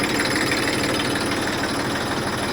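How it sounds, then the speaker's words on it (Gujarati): A tractor engine runs steadily during hydraulic tipping of its load, a loud, close, continuous diesel drone with a rough low throb and no talk. "હાઇડ્રોલિક થાય હવે ટ્રેક્ટર બધા ખાલી કરીને જશે"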